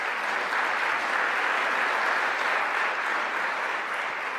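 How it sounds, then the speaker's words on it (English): An audience at an event with New York's governor at Onondaga Community College applauds steadily, a dense wash of clapping that holds even and sustained throughout, with no talking. "Let's give him a round of applause as well."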